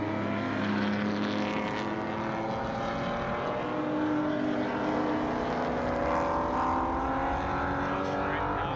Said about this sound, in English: Good to hear how all these cars, the rumbling noise of them onto the main straight